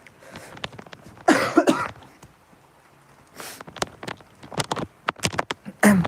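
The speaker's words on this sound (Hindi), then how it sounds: "थोड़ी खांसी आ गई थी यार" Several harsh coughs come in bursts separated by quiet pauses, close and fairly loud.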